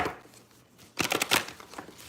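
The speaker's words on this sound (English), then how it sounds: "One more shuffle here." Tarot cards being shuffled by hand during a live reading, first a faint riffle, then a louder, close flurry of quick card flicks about halfway through that tapers off.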